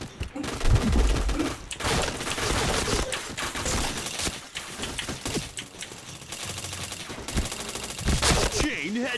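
Rapid automatic gunfire and bursts of shots from a shooter video game, loud and dense throughout with overlapping impacts and game effects, and no clear speech.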